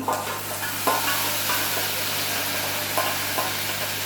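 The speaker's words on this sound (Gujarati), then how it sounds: "હિંગ થઈ જાય એના પછી આપણે એડ કરીશું આપણી પેસ્ટ કરેલી ડુંગળી" Onion paste fries in ghee and oil with asafoetida, giving a steady crackling sizzle and occasional soft scrapes of stirring under a low hum.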